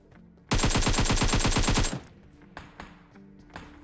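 Rapid automatic gunfire from the PUBG Mobile battle royale game, a loud continuous burst of about fifteen evenly spaced shots that stops abruptly, followed by quieter scattered in-game clicks and thuds.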